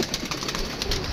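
Pigeons coo softly in a short, busy stretch of sound near a pigeon keeper's flock, with a rustling, noisy background.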